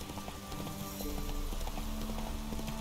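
A horse gallops in The Witcher 3, rhythmic hoofbeats clopping steadily and close, over a bed of game ambience with a faint tonal hum.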